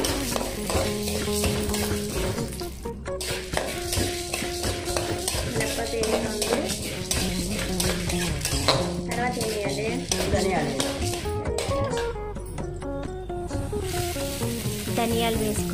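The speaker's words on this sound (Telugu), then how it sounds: "తర్వాత ఇది కాగాక కదా మినప్పప్పు కదా మినప్పప్పు వేసుకొని బాగా వేసుకోవాలండి" Urad dal frying in hot oil in a pan while being stirred, with a steady loud sizzle and scraping of the utensil against the pan running continuously throughout.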